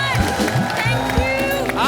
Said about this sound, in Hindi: एक बार सिद्धार्थ और जैकी के लिए जोरदार तालियां